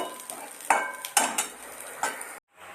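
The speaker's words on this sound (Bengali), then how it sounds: "এখানে পটল ভাজা করছি, প্রায় হয়ে এসছে, এবার নামিয়ে নেব।" Pointed gourd (potol) slices frying in a pan, with a few distinct scraping and clinking stirs over a soft sizzle, close by, cutting off abruptly at the end.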